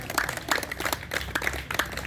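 Applause from an audience welcoming a visiting family at a gathering, a fairly faint but continuous patter of many hands clapping with a few sharper individual claps, no voices over it.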